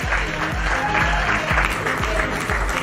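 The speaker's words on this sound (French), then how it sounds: "On va applaudir très fort Manik, Sertikeka." Applause from an audience at a five-day book and culture festival in Abidjan, a steady wash of clapping with some rhythmic low thumps underneath, fairly loud and continuous throughout.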